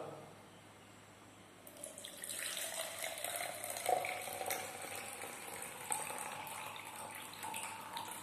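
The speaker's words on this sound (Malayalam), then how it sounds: "അതിനുശേഷം ജലം അതിലേക്ക് ഒഴിച്ചു കൊടുക്കുക" Water poured into cut plastic bottles joined by a pipe for a demonstration, a soft steady trickling and splashing that starts after a quiet moment and continues throughout.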